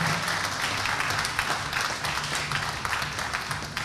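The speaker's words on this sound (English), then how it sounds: "Ladies and gentlemen, one more round of applause for our Open A men, our Open A female, all the competitors across the competition weekend." A crowd at a state lead climbing titles open final claps steadily for the competitors, a dense, sustained round of applause at moderate distance with no gaps, mixed with faint room murmur.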